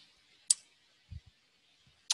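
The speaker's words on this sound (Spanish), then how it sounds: "vamos a hacer clic en aceptar" Computer mouse clicks sound near and crisp: two sharp single clicks about one and a half seconds apart, with faint low thumps between them in an otherwise quiet room.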